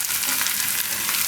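Pieces of colocasia (arbi) frying in oil give a dense, continuous crackling sizzle, close by and fairly loud, with no voices over it.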